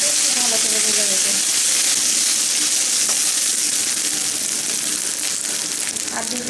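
Ginger-garlic paste fries with onions in a hot pan for a stingray fish curry, giving a loud, steady, close sizzle and hiss that runs the whole time, with a faint voice underneath.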